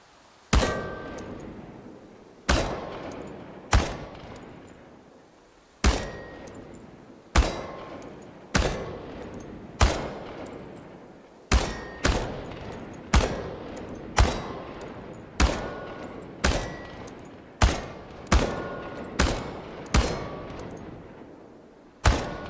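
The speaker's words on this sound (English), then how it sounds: "The biggest challenge is compensating for recoil in automatic firing mode" Automatic rifle fire at tin cans in the game Chernobylite: about twenty loud, sharp bursts at irregular intervals, each ending in a brief decaying tail, with no talking.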